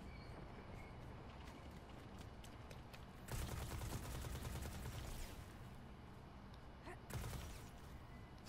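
Gunfire in a Destiny 2 Crucible multiplayer match, a dense ongoing fusillade of shots with louder bursts near the middle and end, busy game action throughout.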